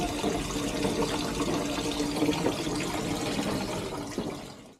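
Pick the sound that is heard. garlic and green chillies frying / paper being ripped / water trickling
water trickling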